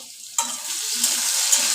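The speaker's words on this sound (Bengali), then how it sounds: "এখন এখানে বসে আলুটাকে আমি ভেজে নিচ্ছি।" Marinated potatoes fry in a pan in a home kitchen: a quiet start gives way to a sudden close sizzle that keeps crackling steadily, with a few brief sharp spits and stirring touches and no talk.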